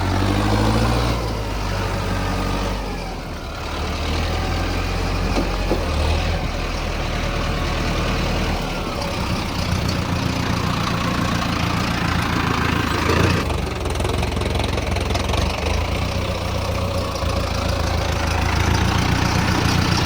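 A Mahindra Arjun Novo 605 tractor standing near a wet paddy field, its engine idling with a loud, steady low rumble that continues for the whole stretch without talk.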